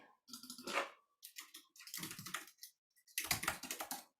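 Quick bursts of keystrokes on a computer keyboard as a website address is entered, three close, fairly loud runs of tapping separated by short pauses, with no voices.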